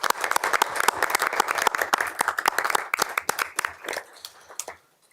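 Audience applause for award recipients at a Board of Education meeting, dense steady clapping from a room of people that thins out and fades to silence near the end.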